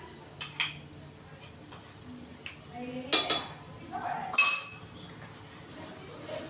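Spoon clinking and scraping in a pan of semolina sheera cooked in ghee as the spoon is changed, several bright metallic clinks at irregular intervals, close and moderately loud, no talk.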